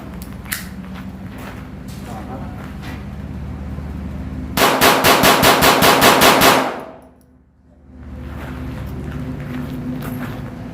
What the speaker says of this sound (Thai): ยิงเร่ง